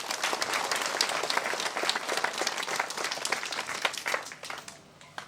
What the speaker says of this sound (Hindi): आइए हम एक दूसरे के लिए भी हम ताली बजाकर हम धन्यवाद दें